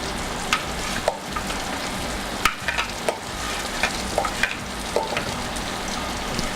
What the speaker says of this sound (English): I'll be stirring this frequently for 5 or 6 minutes until the mushrooms are all cooked